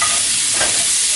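Fennel and trout sizzle and char in a hot skillet, giving a dense, continuous hiss of frying close up, with no voices.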